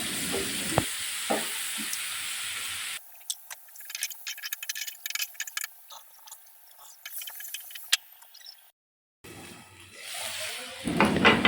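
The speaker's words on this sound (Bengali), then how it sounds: "আমি পেঁয়াজগুলো হালকা ব্রাউন করে নিয়ে টমেটোগুলো একটু ব্রাউন করে নিচ্ছি, মানে একটু ফ্রাই করে নিচ্ছি" Onions and tomatoes frying in oil with ground spice paste in a home kitchen: a crackling sizzle with stirring and clinks, cutting out and returning unevenly, close by and without speech.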